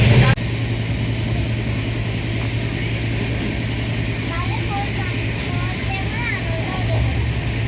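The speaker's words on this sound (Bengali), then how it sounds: "তো ট্রেন আমাদের চলছে" A passenger train running from Bangalore to Kolkata through hilly country gives a steady, loud rumble and rattle with a low hum throughout, with voices faintly mixed in.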